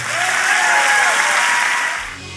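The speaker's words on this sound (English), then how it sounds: "Now clap your hands if you want to live that way" Loud congregation clapping in a church service, many hands beating in a thick, sustained wash with a faint tonal whistle or cheer over it, cutting off abruptly near the end.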